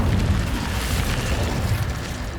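The Incendio fire spell from Hogwarts Legacy bursts out as a loud, continuous roaring whoosh that holds steady for a couple of seconds.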